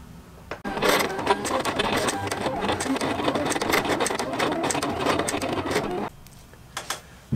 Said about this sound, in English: the CAMEO is done cutting